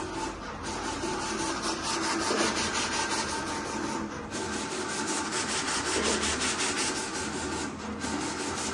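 A paper scoring and cutting machine with a touchscreen scores a sheet, giving a steady loud rasping, rubbing mechanical run with brief dips, close and continuous.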